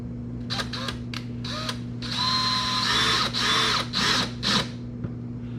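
A power drill whirs in several short bursts, stopping and starting as tap screws are driven into a 2008-2012 Chevrolet Malibu splash shield, close by with a steady hum behind.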